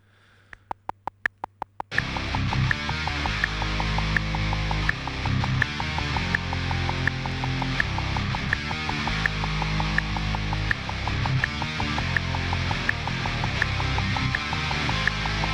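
Loud, dense distorted rock music with heavy drums and thick reverb, playing continuously after a short run of sharp clicks at the start.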